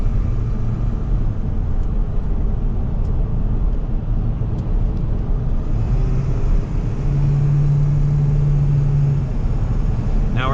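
A car engine drones steadily while driving and lightly accelerating downhill, a constant low rumble with road noise and a brief rising tone partway through, close and fairly loud inside the cabin.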